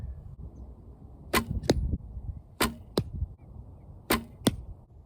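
Arrows strike the target in a dog-versus-cat archery game, landing as three pairs of sharp, close thwacks spread evenly over a few seconds against a quiet background, with no talking.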